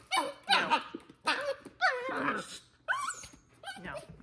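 A Belgian Malinois puppy yipping, barking and growling close up in short, excited bursts with brief pauses between them, and a person's voice mixed in.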